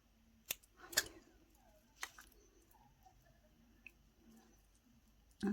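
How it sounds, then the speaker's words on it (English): Flush cutters snip beading wire on a cuff bracelet, giving a couple of sharp close clicks against a quiet background, followed by faint handling sounds. "Trim with the flush cutters."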